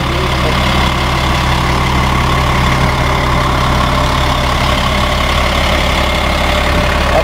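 Caterpillar 455 diesel engine on a Beaver motorhome idling steadily, a loud, close, continuous low rumble with even mechanical drone and no talk.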